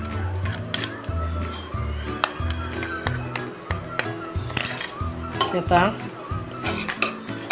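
Dal being stirred and sautéed with chili powder in oil in a pan for a mixed-dal sandga curry, with repeated scraping stirs, clinks of a spoon against metal and a soft sizzle beneath someone speaking.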